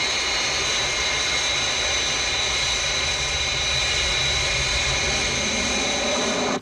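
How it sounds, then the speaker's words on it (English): Fireflash aircraft engines whine steadily on final approach, a constant loud jet drone with high tonal hum that cuts off abruptly at the end. "Aircraft approaching glide path 5 miles to threshold."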